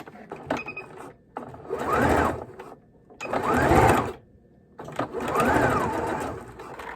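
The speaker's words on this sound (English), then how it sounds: "I'm going to sew these together." A sewing machine double-stitches dollar store placemats together into a crossbody purse, running in three loud, steady whirring bursts separated by brief pauses, close up with no talking.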